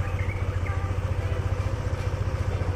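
A Yamaha NMAX scooter engine idling at close range, a steady low throb with an even pulsing beat and a little mechanical clatter, running alone without speech.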